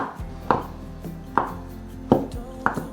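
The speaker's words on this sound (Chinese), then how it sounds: "香菇先切片" A knife slices a shiitake mushroom on a cutting board, four distinct close, crisp chops spaced at an uneven, unhurried pace.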